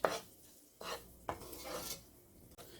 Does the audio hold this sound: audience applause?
no